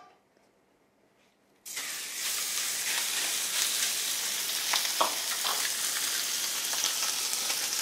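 Beef fillet hits a hot pan and breaks into a loud, steady sizzle of stir-frying after a near-silent start, the dense crackling hiss continuing with a few stirring scrapes and no voices.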